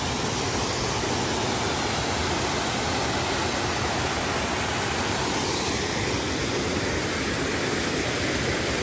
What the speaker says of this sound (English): look at this amazing little cascading waterfall